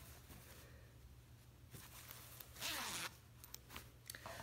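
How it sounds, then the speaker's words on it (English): A zipper on a sewn umbrella skirt is run up and down several times, producing close, quiet rasping zips with brief pauses and a soft handling rustle between strokes. "our zipper is top stitched and finished, and it is fully functional"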